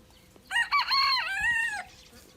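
A rooster at a San Diego petting zoo lets out one loud, close cock-a-doodle-doo, rising then holding and falling away, over a quiet background with no talk.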